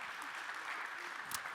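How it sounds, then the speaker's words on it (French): Audience applause at a workplace health and safety conference, a steady, moderately faint wash of clapping that continues evenly throughout the short stretch with no voices over it. "et des applaudissements vous précèdent."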